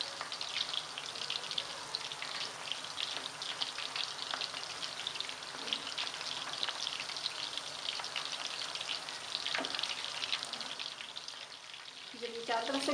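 Kofta balls frying with onions in a pan, a continuous crackling sizzle of hot oil, fairly faint and even, with occasional soft clinks as they are turned.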